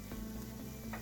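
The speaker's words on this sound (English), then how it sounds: "we just want to saute these, just fry them off lightly until they're soft" Leeks and potatoes sautéing in a soup pot, a steady close sizzle of gentle frying with a couple of soft stirring knocks, no talking.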